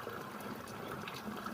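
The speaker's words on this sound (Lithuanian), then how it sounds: "Užsipildom kanistrus vandens." Water trickles steadily into canisters as they are filled, a continuous close, even gush with no talk over it.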